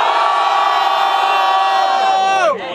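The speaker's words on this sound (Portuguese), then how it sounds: "Muito barulho quem gostou das rimas do Gui!" Crowd at a rap battle semifinal cheering and whooping loudly in one sustained roar that drops off sharply near the end.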